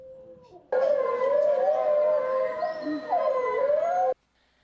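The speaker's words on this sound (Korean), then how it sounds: "같이 지내던 늑대 울음소리를 확성기로 틀며 유인 작전도 벌였습니다." A single long, wavering wolf howl played over a loudspeaker rises and falls, loud and sustained for a few seconds, with a slightly electronic, amplified quality, then stops abruptly.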